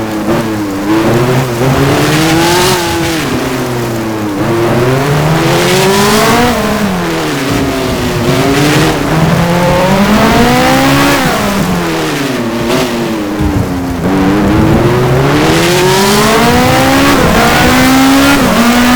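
A race car in the F1 Challenge racing game, on a rainy 1986 Detroit US Grand Prix circuit, drives into the pit lane, its loud high-revving engine rising and falling through repeated gear changes for the whole stretch.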